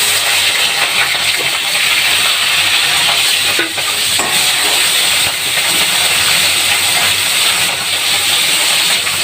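Small native pond koi fish fry in hot oil in a kadai, producing a loud, unbroken hissing sizzle that fills the whole stretch, with no talking.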